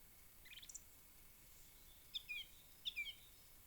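A song thrush sings in a forest: a few quiet, sharp, high chirping phrases, one soft call early, then two brighter bursts near the end, over faint background hiss.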